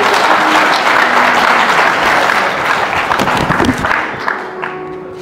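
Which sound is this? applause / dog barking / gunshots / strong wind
applause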